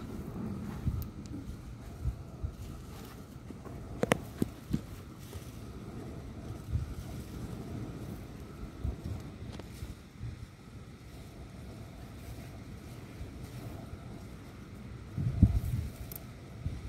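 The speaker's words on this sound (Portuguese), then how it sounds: "Tá muito vento." Strong wind blows at a beach campsite, gusting in a low, rumbling buffet against the microphone with faint surf-like wash and occasional bumps and handling knocks, no talk in the clip.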